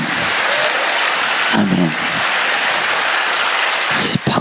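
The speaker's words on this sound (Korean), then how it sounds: "박수도 시원찮게 치네." Church congregation clapping through a dense, steady burst of applause, with a brief spoken word partway through and a short break near the end.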